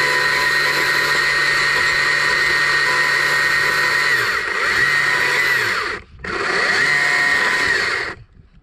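Chainsaw fitted with a dime tip bar carving the eyes of a small wooden bear, a loud steady high whine held for several seconds, dipping in short bursts before cutting off briefly and starting again.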